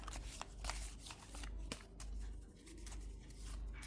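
A love oracle card deck being shuffled by hand, producing soft, close riffling and sliding card sounds in short repeated bursts, quiet and without talk.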